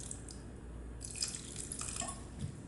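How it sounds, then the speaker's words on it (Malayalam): More water is added to a simmering tomato mango curry pot, a brief close pour followed by a few light drips and splashes, with no one speaking. "അല്പം കൂടെ വെള്ളം ഒഴിച്ചു കൊടുക്കാം"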